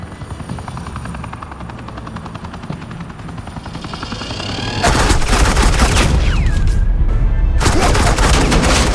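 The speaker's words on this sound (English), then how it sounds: "suppressing fire" Bursts of automatic gunfire laying down suppressing fire in Batman: The Enemy Within, with a helicopter's rotor chopping loudly throughout and the rapid shots crackling harshly over it in the second half.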